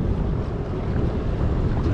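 A jet ski runs out at sea, a loud, close, continuous engine roar mixed with heavy wind buffeting and water rush, steady throughout with no voices.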